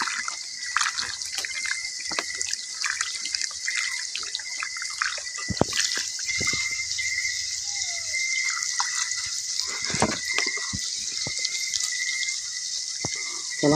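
Tap water runs and trickles while food is washed, a close, steady splashing stream with intermittent drips, clinks and handling sounds throughout.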